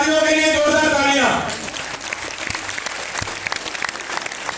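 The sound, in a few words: audience applause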